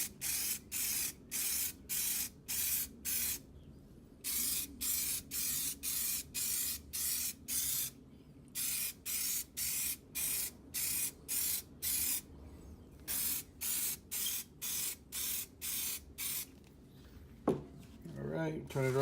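Rapid bursts of an aerosol spray can hiss in a steady rhythm while spray painting a Honda S2000 wheel hub, each short and close, with brief pauses between runs and a faint clunk near the end.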